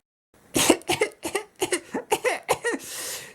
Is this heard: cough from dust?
yes